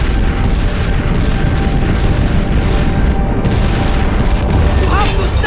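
Weapons firing in the Guardians of the Galaxy video game, heard as a dense, loud, continuous barrage of booming blasts that does not let up.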